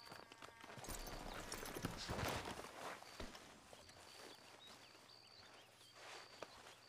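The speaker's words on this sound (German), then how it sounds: "So viele Pferde." Horse hooves clip-clop across ground in the video game Red Dead Redemption 2, a steady walking rhythm of light knocks at moderate distance over an ambient outdoor game soundscape.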